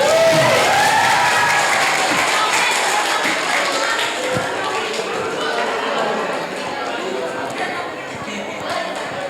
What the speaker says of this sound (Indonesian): kalau begitu tepuk tangan